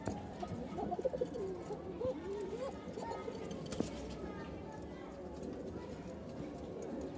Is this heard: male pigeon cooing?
yes